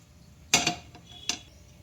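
A cooking pan for jackfruit pulao is set down on a lit stove, giving a sharp metallic clank followed by a second, lighter clunk less than a second later.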